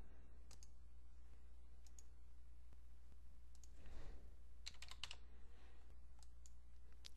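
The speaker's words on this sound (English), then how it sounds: "So just scroll down here and then you can enter your payment information" Fingers typing payment details on a computer keyboard, a quiet run of close key clicks in short bursts with pauses, heard alone over a low steady hum.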